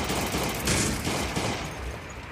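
Sustained automatic weapon fire rattles in a rapid, continuous burst in the survival game Last Day on Earth, loud and dense throughout.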